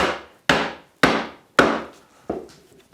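A mallet gives light taps on a chisel chopping a through mortise in wood: five crisp, close knocks about half a second apart, each fading quickly, the last one softer, with no talk.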